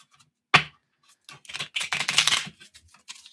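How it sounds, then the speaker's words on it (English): A deck of playing cards is shuffled indoors during a card trick: a sharp single snap, then a dense burst of rapid riffling clicks lasting about a second, followed by a few lighter taps, close and fairly quiet. "I'm going to go ahead and give this a shuffle."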